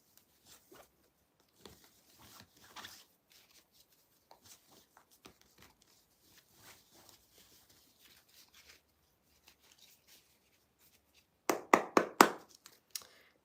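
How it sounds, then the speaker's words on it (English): Tarot cards are shuffled by hand in faint, scattered soft riffles and taps, then a brief, louder burst of rapid card riffling near the end. "shuffling the cards for Gemini"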